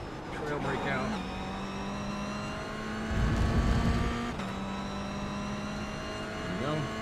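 Race car engine in iRacing at Sebring holds a steady high whine, then drops in pitch with a rumbling burst before climbing again as the throttle reopens, loud and close under a voice talking.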